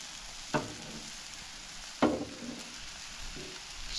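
Food frying in a pan over low heat while forming a crust, a soft steady sizzle broken by a few brief clinks or stirring scrapes, close and fairly quiet.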